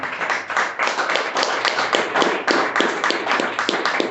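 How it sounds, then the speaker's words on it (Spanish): A church congregation claps together in a quick, steady rhythm of many hands, lively and fairly close, with faint voices mixed in. "Den el aplauso al Señor."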